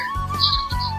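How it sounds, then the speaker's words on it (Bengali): Short bright chirps and a thin whistling call from birds in a quiet outdoor spot, a few quick notes over a faint low hum, fairly near and alone. "নীরব, খালি পাখিদের ডাক।"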